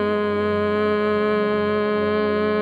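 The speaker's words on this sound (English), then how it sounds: "the exhale will have a hum." A humming-bee breath: a long nasal exhale carrying a steady, even hum that holds a constant pitch for the whole stretch, close and clear with no talking.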